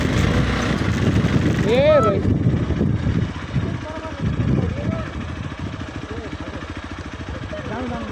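A motorbike engine putters and idles steadily nearby under a rough mechanical rattle, while people chat over it in short phrases.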